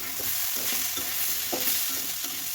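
Potato bhaji with green chillies is stirred in a frying pan: rhythmic spatula scrapes sound every half second or so over a steady hissing sizzle, close and alone.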